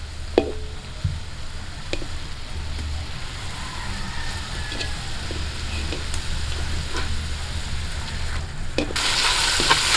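Spare ribs sizzle and crackle in a pan over an outdoor cooking fire, a dense continuous frying hiss with occasional pops and scraping as pieces are turned, with no talk.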